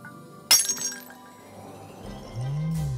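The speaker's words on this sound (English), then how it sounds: "In case of sidekick emergency, break glass?" Glass shatters on an emergency case holding a skeleton in a comedic horror puppet show: one sharp, loud crash near the start, then scattered tinkling that fades under a low hum.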